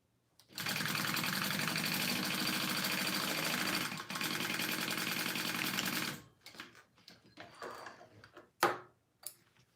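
A sewing machine top-stitches a handmade wallet, running in one loud continuous buzzing stretch of about six seconds before stopping, followed by scattered clicks and handling taps.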